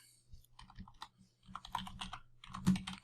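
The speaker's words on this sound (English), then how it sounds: "So for this, we'll just type in" Computer keyboard typing while entering a payment button code, with quick bursts of close, light key clicks that pause briefly and then resume in a denser run, with no talking.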